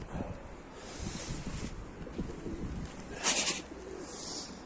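Pigeons coo softly at an outdoor loft among snowy surroundings, low throaty calls under wind noise with a brief burst of wing flutter midway.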